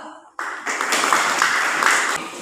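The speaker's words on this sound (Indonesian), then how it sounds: "beri tepuk tangan untuk kelompok kedua" Students in a chemistry classroom break into applause for the second group, the clapping starting abruptly after a short quiet moment and holding steady and fairly loud before easing off.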